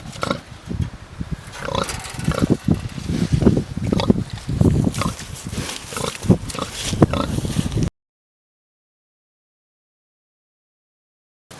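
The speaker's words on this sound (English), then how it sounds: "Big pig." A big pig grunts and oinks repeatedly on a farm, fairly close and loud with rough noisy texture, then the sound cuts to silence for the last few seconds.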